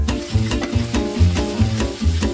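Celery, carrots and julienned green onion sizzle in a pan for a hot and spicy Asian chicken soup while a utensil stirs them in quick, regular scraping strokes, loud and close.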